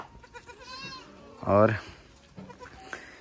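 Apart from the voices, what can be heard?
young goat kids bleating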